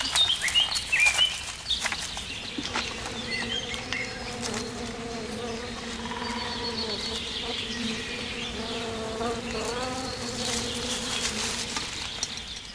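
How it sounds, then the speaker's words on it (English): Honeybees buzz in a dense, continuous drone around beekeepers working a hive with smoke, near and steady, with occasional louder passes of individual bees and faint birds in the background. "Smoke masks the bees' alarm pheromones, so they're less prone to stinging."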